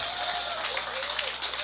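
Audience clapping at a corporate board of directors event: a wash of scattered applause from a crowd, moderately loud and steady, with a faint tone running beneath it.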